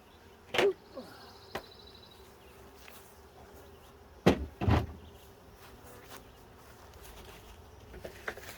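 Honeybees around an open hive during an inspection give a faint, brief buzz early on, set among a few sharp knocks and clatters from handling equipment, with quiet background between.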